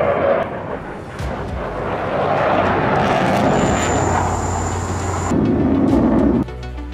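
Military aircraft roar past in a flypast over Al Maktoum International Airport at the Dubai Airshow, a loud sustained jet rumble that swells and holds, then cuts off abruptly near the end.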